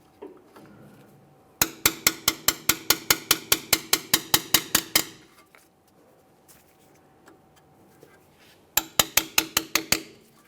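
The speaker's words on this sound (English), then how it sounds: "Now I'm just going to lightly tap on it back and forth," Light metallic taps on a stuck wheel speed sensor in the steering knuckle of a 2008-2017 Mitsubishi Lancer during front hub work: a quick run of about twenty sharp, evenly spaced clinks, a pause, then a shorter burst, close and clear.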